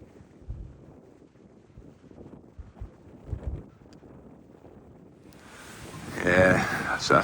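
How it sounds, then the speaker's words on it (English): Wind gusts across a mountain hiking trail on the Heysen Trail, a low rumbling buffet under quiet talk at first, then swelling into a loud, roaring blast against the microphone in the final seconds. "I think the wind is going to be the thing all day"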